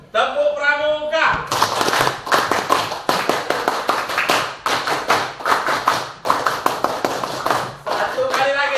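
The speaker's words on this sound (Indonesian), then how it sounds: "Satu kali lagi, tepuk pramuka." A classroom group performs the Indonesian scout clap, a rhythmic pattern of loud, sharp claps in repeated bursts with brief pauses, preceded and followed by children's voices.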